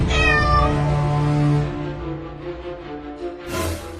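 A cartoon cat meows loudly in a long, wavering, exaggerated cry that trails off, followed by a brief rush of noise at the end.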